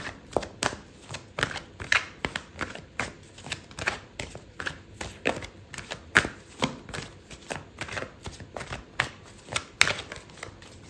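Tarot cards shuffled and set down during a reading, a rapid run of soft close flicks and taps in an uneven rhythm that continues throughout, with no talk.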